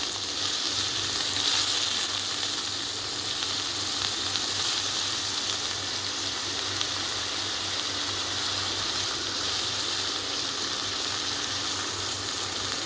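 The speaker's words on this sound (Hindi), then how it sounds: "अब हमने इसको फ्राई करना है तब तक इसका कलर चेंज नहीं हो जाता" Potato pieces for aloo bhujia fry over high heat in oil, making a continuous, even close sizzle with faint stirring and no speech throughout.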